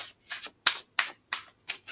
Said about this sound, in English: pull some cards for you